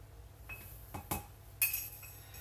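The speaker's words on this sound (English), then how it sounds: "I just get that mixed up real good" Ground black pepper, granulated garlic and onion powder stirred in a glass container give soft, scattered clinks and scrapes, quiet and close, without talk.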